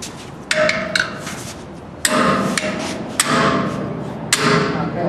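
A wrench is pounded to loosen a part during an RP1 centrifuge teardown. About six sharp metallic whacks ring out at uneven intervals over a constant machine or room hum, loud and close.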